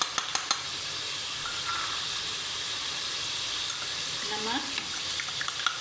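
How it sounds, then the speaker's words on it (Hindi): Steady sizzle of achar gosht meat frying with spices in a pan, a continuous bright hiss with a few stirring clinks and scrapes, heard close under a soft voice speaking briefly. "अब हम इसको भूनने वाला काम करते हैं और उसके अंदर कुछ मसाले ऐड करते हैं।"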